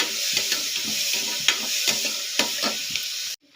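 Onions sautéing in a pan for chicken curry, a steady close sizzle punctuated by rhythmic spatula scrapes and taps against the pan, with no talk, ending abruptly.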